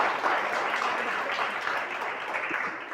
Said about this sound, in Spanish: Démosle un aplauso al Señor por esa obra.